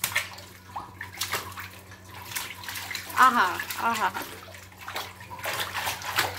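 A child bathes in a tub of water, with intermittent splashing and sloshing while an adult talks and a child vocalizes playfully over it.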